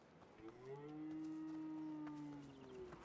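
A cow in the video game Dungeons of Hinterberg gives one long, drawn-out moo that swells and fades, fairly quiet and alone with no speech.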